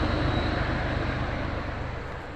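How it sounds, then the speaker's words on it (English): A train passing close by near Walden Pond, a loud broadband rumble and rush that fades slowly over a couple of seconds, with no voices. "that's the train."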